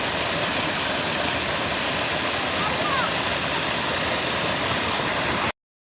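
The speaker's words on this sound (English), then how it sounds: "Beautiful waterfall." An outdoor waterfall in Jamaica gives a constant, loud broadband roar of rushing water, unbroken until it cuts off abruptly at the end.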